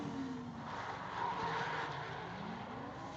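Drift cars at Affinity Circuit, among them an IS300, getting back on throttle with a big flick, tires skidding in a sustained loud rush of engine roar and rubber squeal that swells midway.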